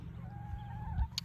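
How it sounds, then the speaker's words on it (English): Happy backyard chickens clucking softly in a garden courtyard, a low steady murmur of calls with one brighter squawk near the end, close and alone without talk. "But happy chickens."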